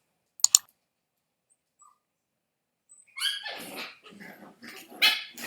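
Puppies in the Sims 4 video game bark with a sharp double yap, then after a pause break into a run of rapid, close, excited barks and whimpers.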